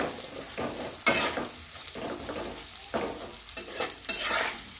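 Onion and capsicum fry in a pan for chilli chicken, a low continuous sizzle punctuated by a series of sharp spatula stirs and scrapes at a roughly regular pace, close up with no voices.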